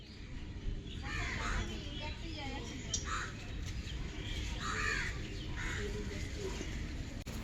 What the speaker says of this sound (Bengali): এত পাখির আওয়াজ